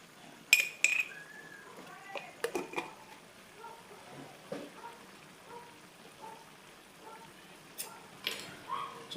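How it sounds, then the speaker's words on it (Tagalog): Adobo being stirred in a pan, with a utensil clinking and scraping against the metal in light, irregular taps and scrapes, fairly close and quiet, with no talking. "Tsaka ko ngayon imi-mix-mix yan mga lods."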